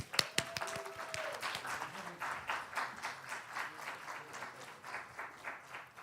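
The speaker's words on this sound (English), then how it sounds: "Join me in welcoming with a huge round of applause, Mr. Anand S." Conference audience in Dubai applauding a speaker's welcome, starting with a few sharp separate claps, then a steady moderate round of clapping that rises and dips in gentle waves without any talk.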